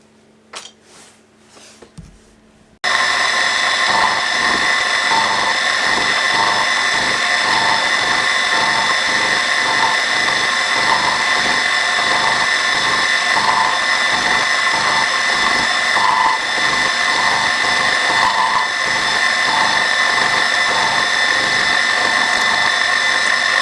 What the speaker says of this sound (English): then we can start machining the part